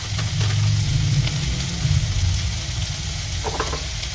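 Onion frying in coconut oil in a hot pan, a steady close sizzle with a brief stirring scrape near the end, no voices.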